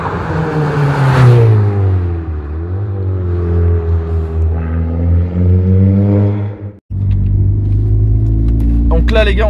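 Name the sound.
Audi S3 engine rumbling with exhaust valve open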